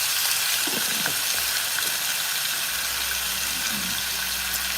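Chicken sizzles and crackles steadily in hot oil, a dense hiss up close with occasional clinks and stirring.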